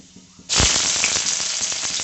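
Chopped onions land in hot oil seasoned with panch phoron, bringing a sudden loud burst of sizzling that stays dense and crackling, with quick pops throughout.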